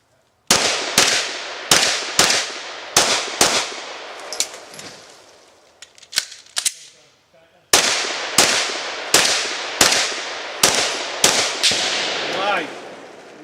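Glock 19 pistol shots fired at targets in quick pairs, about a dozen sharp, loud reports with a pause and reload partway through, ringing echoes trailing each shot.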